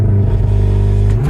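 Mk7.5 VW Golf R launching hard under launch control, its engine droning loud and close with a steady roar and a brief clatter as the wheels spin, then the pitch climbing near the end.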